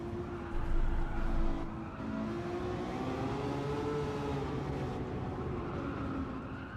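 Race car in Gran Turismo 7, the engine revving hard with rising and falling pitch through gear shifts, a loud burst early then steady drone.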